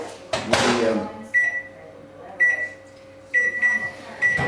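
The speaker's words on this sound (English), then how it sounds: "I'm putting a little bit of water in the microwave" A microwave door thumps shut, then several keypad beeps sound at intervals over the oven's steady running hum as it heats food with a little water.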